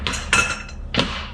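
Hammer blows knock a steering shaft out of a Foxbody Mustang K-member: three sharp metallic strikes with brief ringing, close and fairly loud, spaced unevenly with no talking.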